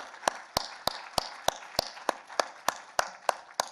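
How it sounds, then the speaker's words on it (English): Sharp, evenly spaced claps ring out about every third of a second at a post-fight boxing press conference, a single steady rhythm of loud hand claps over a faint room hum with no talking. "Let's a big round of applause, though, for the Ministry of Sport"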